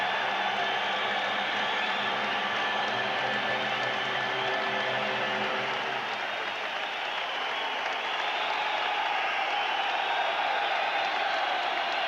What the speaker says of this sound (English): So long and loud applause for one of the most popular sportsmen of recent years.